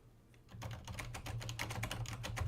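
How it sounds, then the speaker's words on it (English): Quick, even keystrokes on a Corsair low-profile silent mechanical keyboard, soft muted clacks in a steady run that grows slightly louder, with no voices. "I think it's called a silent mechanical keyboard."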